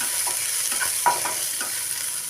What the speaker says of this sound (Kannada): ಉಳ್ಳಾಗಡ್ಡಿ ಹಾಕ್ಕೊಂಡು ಒಂದು ಸ್ವಲ್ಪ ಹುರು ಹುರ್ಕೋಬೇಕು ನಾವು ಈ ಥರ ಫ್ರೈ ಮಾಡ್ಕೋಬೇಕು ರೀ